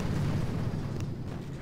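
Explosive booms from an attack on a boom cannon in the mobile strategy game Boom Beach, a continuous dense rumble of blasts that stays loud and steady throughout with no voices.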